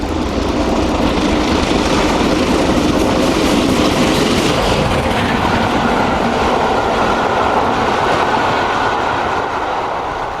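British steam locomotive Scots Guardsman hauls a Settle–Carlisle charter train, a loud sustained roar of wheels and rolling stock rushing close by, steady for the whole passage with a slight shift in tone midway.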